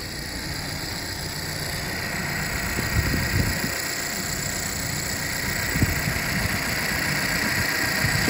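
A 2022 Dacia Duster 1.3 TCe 150 engine idles steadily, a low continuous rumble with a faint hum, holding an even level throughout with no voices.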